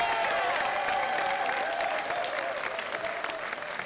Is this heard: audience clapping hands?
yes